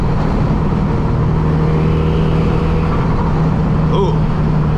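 Boosted drift car engine rumbling steadily with turbo whir, a continuous loud, close drone that holds level throughout, with no clear revving peaks.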